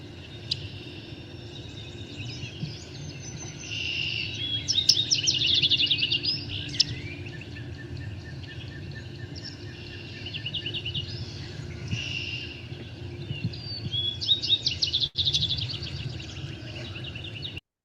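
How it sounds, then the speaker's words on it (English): A yellow-rumped warbler sings among other birds outdoors, with repeated high chirps and trills coming in bursts over faint, steady background ambience; no voices. "there's a yellow rump warbler in this recording"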